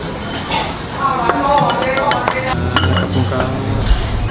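Dishes, bowls and cutlery clink repeatedly in a busy boat noodle restaurant in Bangkok, with sharp close clatters over a steady kitchen din and some voices in the background.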